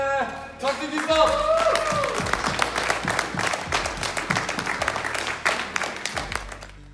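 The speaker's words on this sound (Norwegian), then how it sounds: "Stor applaus da for taktikk i stand!" A crowd at the VisionLan 2018 LAN party claps for the team Taktikk i stand, a steady round of applause that starts under an announcer's voice and fades out at the end.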